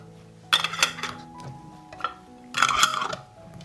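A metal pan is handled in a kitchen while glass jars with new lids are prepared for canning, giving two bursts of clanking, ringing metallic knocks, close and fairly loud, with quieter handling noise between.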